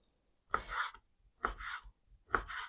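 Knife slicing cooled cooked meat into thin julienne strips on a board for a Prague-style salad: three separate bursts of quick chopping strokes, close and fairly quiet, with short pauses between them.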